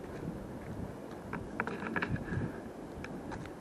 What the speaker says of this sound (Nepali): यस्तो हावा चलेछ नि